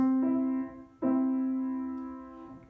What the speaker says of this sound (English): 4 to 5, which would sound like this